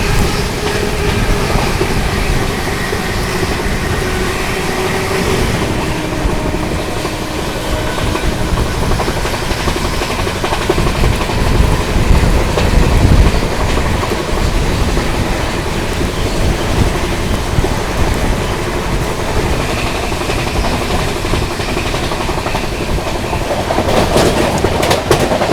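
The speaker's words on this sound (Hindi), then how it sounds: "ट्रेन जो है अपनी बढ़िया रफ्तार में भाग रही है।" Mumbai Duronto Express train running at speed through Bharatpur Junction without stopping, a steady loud rumble with rattling wagon noise and clickety-clack throughout, heard from on board.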